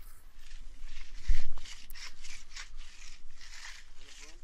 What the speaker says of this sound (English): When you broom like that, you want to pull it back nice and straight without stopping.